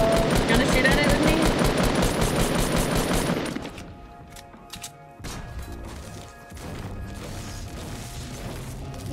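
Rapid gunfire from the Fortnite video game shooting at a supply drop, loud dense automatic bursts for about three seconds, then quieter scattered shots and game sounds with voices talking.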